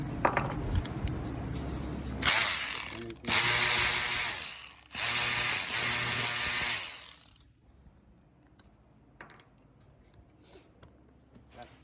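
A hand ratchet clicks rapidly while loosening 8 mm bolts on the oil cooler of a 2004–2010 BMW X5, several close, loud bursts of fast clicking separated by brief pauses, then quieter handling noise.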